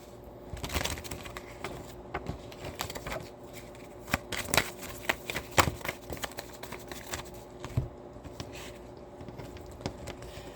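Playing cards handled and shuffled while switching decks, a steady run of soft riffles, flicks and taps close by, with no voices.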